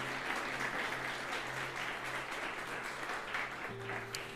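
Congregation applauding during a Spanish-language church sermon, a steady broadband wash of clapping sustained throughout with a low organ or keyboard drone held underneath, moderately loud and continuous.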